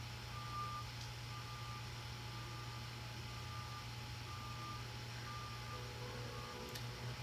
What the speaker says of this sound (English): What's that truck doing outside?